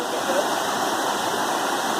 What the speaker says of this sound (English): the waterfall is just around that bend